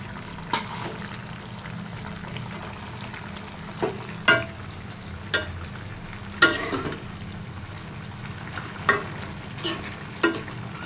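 Pumpkin greens stir-fried in a pan, a soft steady sizzle broken by repeated sharp scrapes and clacks of a spatula at irregular intervals, close by with no voices.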